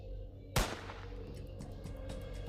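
A single sharp gunshot in a Roblox video game, one loud close crack with a brief tail over steady background game sound and faint clicks.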